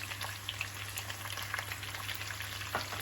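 Zucchini sautéing in a pan while being stirred, a faint continuous crackling sizzle with scattered pops and occasional utensil scrapes, no voices.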